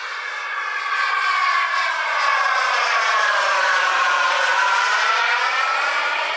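A radio-controlled model MiG-29 jet flies overhead with a loud, continuous turbine whine whose pitch sweeps gradually, Doppler-like, as it passes.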